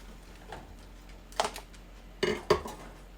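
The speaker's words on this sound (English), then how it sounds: "I'll get my lids out with my magnet" Metal canning lids are lifted from hot water with a magnet, making a few sharp metallic clinks and clatters in two brief clusters against a quiet background.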